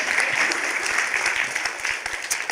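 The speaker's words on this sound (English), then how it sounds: "Yeah, you can clap." A crowd applauding, a dense burst of clapping hands that holds steady throughout with no pause.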